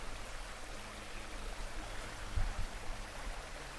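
A stream flowing about 200 yards from a house, with a steady, broad wash of running water throughout and a brief low thump partway through.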